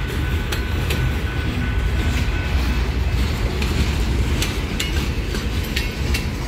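A log train hauled by PNWR locomotives 3052 and 3053 rumbles past steadily with continuous low mechanical roar and faint rhythmic clacks, loud and close throughout.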